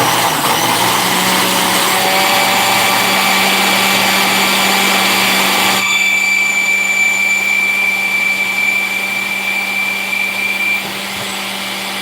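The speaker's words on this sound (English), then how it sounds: "I knew my blender was working" A kitchen blender runs steadily at high speed while a smoothie is being made, a loud continuous motor whine that drops in pitch and power partway through and keeps going without talk.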